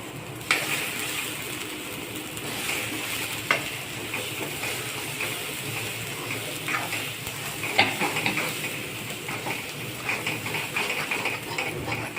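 Roasted grated coconut and coriander-cumin powder sautéing in oil with onion and tomato in a pan, a steady close sizzle with occasional scraping and tapping of a spoon against the pan.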